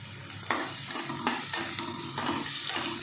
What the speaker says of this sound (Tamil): கொஞ்சம் ஃப்ரை ஆகட்டும் நல்லா இருக்குல்ல க்ரீன் கலர் கேப்சிகம்